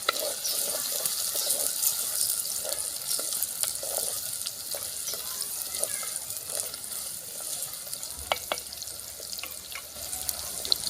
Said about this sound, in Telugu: కోలుతున్నాయి పచ్చిమిరపకాయలు ఉల్లిగడ్డలు